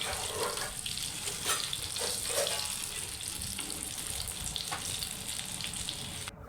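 Shami kebabs fry in a pan beside an egg for an anda shami burger, a steady soft sizzle running throughout with a few light scrapes as they are turned.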